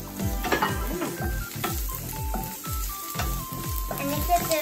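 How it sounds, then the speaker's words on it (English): Onions and garlic frying in a pan for chicken kaldereta, a steady close sizzle under a rhythmic series of low scraping stirs, with faint high tones ringing above. "Then we put the onions in with the garlic."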